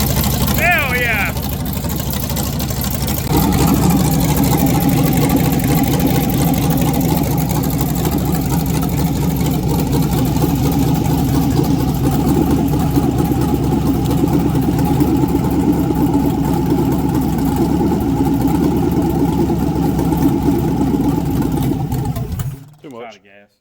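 A 3,000hp LS engine barks to life on its first fire-up and holds a loud, steady, rough idle for about twenty seconds before cutting out abruptly, with voices talking over it.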